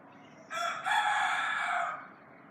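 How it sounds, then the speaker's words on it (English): A rooster crows once in the evening, a long, loud cock-a-doodle-doo of about one and a half seconds that rises and then trails off, heard alone without speech. "Yes, crows crow in the evening if you didn't know that."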